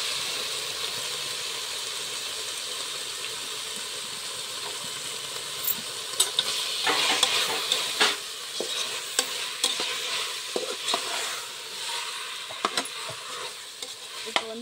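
Tomatoes and ginger-garlic paste sautéing for biryani, a constant soft sizzle that grows busier midway, with scattered clicks and scrapes of a spoon stirring the pan, close up and without speech.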